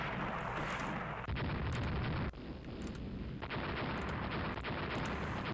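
Warship guns shelling an enemy ship in a naval strategy game set with an Austro-Hungarian fleet, heavy booming blasts and rumbling explosions layered densely and loud, with sharp reports punctuating a continuous roar.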